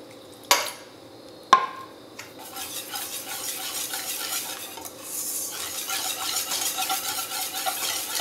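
Milk being whisked into a batter for a broccoli and clothbound cheddar torta, a steady scraping, clinking stir in a bowl after two sharp knocks, continuous and close with no talking.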